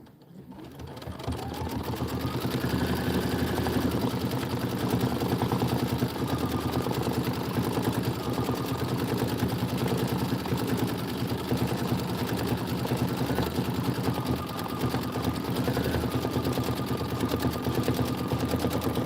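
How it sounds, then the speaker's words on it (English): An embroidery sewing machine stitches a tree fill design in a steady, continuous rapid whir that starts up and runs unbroken at even volume throughout. "This is 3 minutes of stitching."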